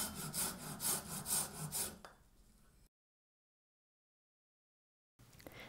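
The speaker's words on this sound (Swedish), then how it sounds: "Sen kan du såga av hela pinnen." A handsaw cuts through a wooden stick in quick, rhythmic rasping strokes, then slows and stops, followed by silence and a faint scrape.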